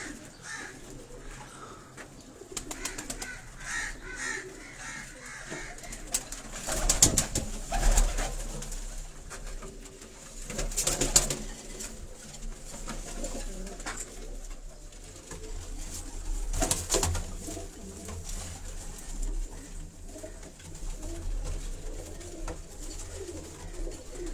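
Rooftop pigeons of several breeds coo on and off in a Karachi coop, a low steady warble at moderate distance, broken by a few sharp knocks and bursts of wing or perch noise, with no voices.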